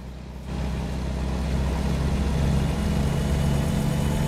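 Volvo VNL truck engine idling in a truck-driving video game, a steady low diesel rumble that starts abruptly and continues evenly.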